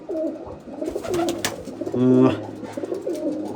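Breeding pairs of pigeons coo nearby in soft, throaty rolling calls, several overlapping, with one longer, louder coo in the middle.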